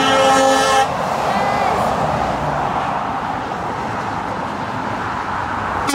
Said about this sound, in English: The Scania's coming.